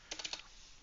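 Three or four quick keystrokes tapped on a computer keyboard, close and fairly soft, followed by a quiet pause.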